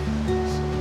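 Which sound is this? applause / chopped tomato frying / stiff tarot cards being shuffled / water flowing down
water flowing down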